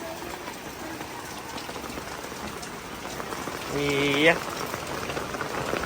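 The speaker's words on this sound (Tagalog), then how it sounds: "Oh, it's raining." Steady rain falling outdoors, a dense even patter with no letup, while a voice briefly speaks over it near the end.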